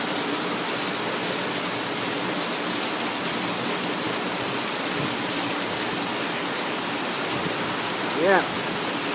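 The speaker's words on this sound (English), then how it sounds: "Late night rain in Jamaica." Steady late-night rain in Jamaica, a dense, even hiss of rainfall that holds for about nine seconds, with a brief faint chirp near the end.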